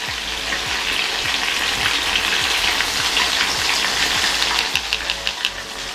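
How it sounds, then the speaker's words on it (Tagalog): Breaded mozzarella sticks fry in hot oil, giving a loud, steady, crackling sizzle that fills the whole stretch, with a faint low rhythmic thumping underneath. "Sobrang bilis lang niya pag ipiprito din."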